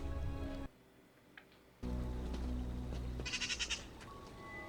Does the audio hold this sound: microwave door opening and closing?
no